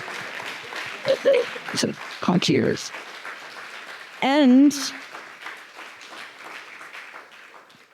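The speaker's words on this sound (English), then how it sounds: "I would like to ask the audience to join me in a round of applause for these great two speakers." An audience at an academic panel talk gives a round of applause for two speakers. The light, steady patter of clapping runs under a voice, which speaks over it and briefly rises louder.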